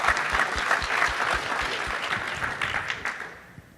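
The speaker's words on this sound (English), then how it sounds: "round of applause for that" Conference session audience at VMworld 2014 gives a round of applause, a full burst of clapping over a low rhythmic thump that gradually thins and fades toward the end.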